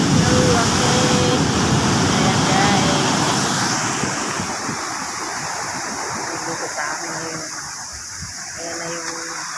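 Sea waves wash against a seawall after Typhoon Kristine, a continuous rushing surf that is loudest at first and slowly eases, with wind noise over the microphone and occasional faint sounds in the background.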